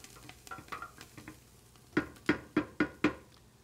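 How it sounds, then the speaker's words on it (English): Garlic sizzling softly in a pot as the base for white chicken chili, with a spoon stirring: light scrapes early, then five sharp evenly spaced knocks against the pot near the end. "So we've gone ahead and put the garlic in to start getting that cooked in to the base."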